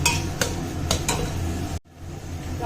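Soybean chunks and masala are stirred and fried in a pan, giving steady scraping and sizzling with a few sharp utensil knocks before the sound suddenly cuts to near silence.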